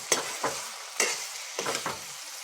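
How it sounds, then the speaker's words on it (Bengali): Pre-fried potatoes being stirred into mixed vegetables in a hot pan for a navratan-style curry, with several distinct scraping stirs over a steady low sizzle, close and alone. "প্রথমে দিয়ে দিলাম আগে থেকে ভেজে রাখা আলুগুলো দিয়ে একটু মিক্স করব।"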